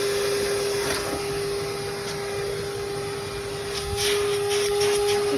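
A Numatic WV900 wet and dry vacuum runs with a constant whining drone while sucking up garden leaves outdoors, with light rustling bursts as debris passes through the hose.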